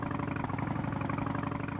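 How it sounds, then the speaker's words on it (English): A police motorcycle engine idles steadily, a continuous low rumble with a fast, even pulse and no voices over it. "Sometimes, police officers ride motorcycles."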